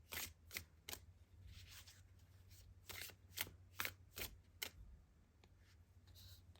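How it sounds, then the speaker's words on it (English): Playing cards drawn and slid from a deck, a scattering of soft, close papery flicks and snaps at an uneven pace over a low steady hum, with no talking. "We'll take 2 cards from this deck."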